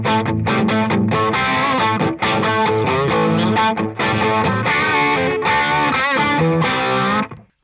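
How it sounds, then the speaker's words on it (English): An electric guitar plays through the OCD Compulsive Drive distortion preset on a VP4 effects unit, giving loud, thick, sustained chords and riffs with brief gaps between phrases. "There's also distortion on here, and this is the OCD compulsive distortion"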